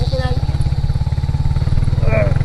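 A motorcycle engine chugs with a fast, steady pulse while riding on a farm road, loud and close, with voices talking over it.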